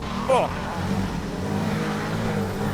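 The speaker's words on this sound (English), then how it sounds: "behind me is a Rotax Triple, a 3-cylinder, turbocharged 990cc engine" A Can-Am Maverick R with a Rotax turbocharged 3-cylinder 990cc engine drones steadily at close range, while a person briefly exclaims near the start.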